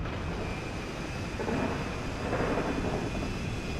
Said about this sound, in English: All right, we're taxiing in here at Pegasus.